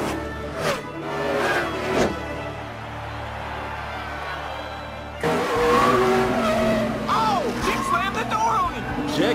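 Animated race cars roar around a stock-car track from a Lightning McQueen racing scene, engines droning steadily and then surging louder with tire squeals and swooping pitch changes, under an excited announcer's voice.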